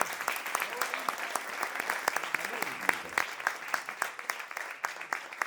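A conference audience gives a round of applause, many sharp individual claps forming a lively, uneven patter, moderately loud and close, with a voice faintly present beneath.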